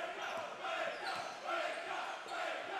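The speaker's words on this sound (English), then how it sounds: "The crowd likes it. They've got the Baker chant up." At a Townsville versus Gold Coast QBL men's basketball quarter-final, the arena crowd chants a player's name, Baker, in a rhythmic, repeating swell of many voices, with a ball bouncing and faint commentary beneath.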